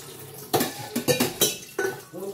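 Dishes, pots and pans washed in a sink basin, several close knocks and clatters of metal and crockery in quick irregular bursts.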